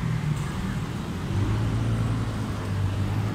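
Busy street traffic with many cars and motorcycles in the Ortigas area: a dense, constant roadway roar with engine hum rising and falling as vehicles pass close by, and no voices.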